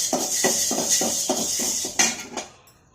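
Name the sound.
roasting black urad dal in a pan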